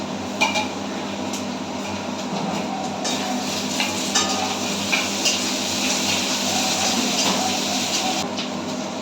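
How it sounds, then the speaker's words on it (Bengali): Ginger paste and chilli go into a pan of frying elephant foot yam, giving a continuous close sizzle broken by light clinks and scrapes of a utensil against the pan. "এবার এর মধ্যে আমি আদা বাটা আর লঙ্কা দিয়ে দেবো।"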